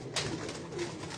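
Pigeons coo on a rooftop, a few soft low calls repeating close by with faint ambient noise around them.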